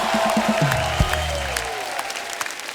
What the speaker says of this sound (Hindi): जोरदार तालियां हो जाएं सुधा जी के लिए।